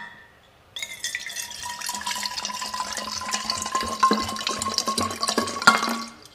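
Drinking water poured from a tap or bottle into a glass: a short pause, then a steady close gurgling stream that fills for several seconds with rising pitch and small splashes, stopping at the end.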